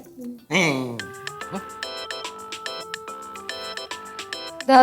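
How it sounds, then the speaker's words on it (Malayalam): A mobile phone plays a bright, repeating electronic ringtone melody, preceded by a brief voice, then ringing on steadily and fairly loud. "ഫോൺ അടിക്കണേ."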